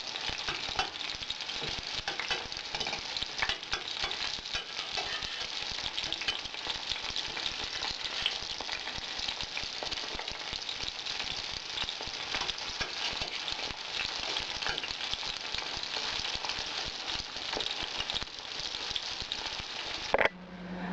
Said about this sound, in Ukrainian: Жарю на маленькому вогні,